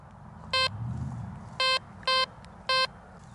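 Four short, sharp electronic beeps ring out at uneven intervals from a Fisher 1236 metal detector giving a choppy signal over a bottle cap, over a quiet background rumble.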